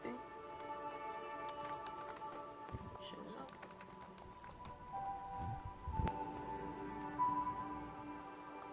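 Keys clatter on an HP Chromebook 14 keyboard after a repair, a steady run of close, light plastic clicks with a few heavier taps, while a person talks quietly over the typing.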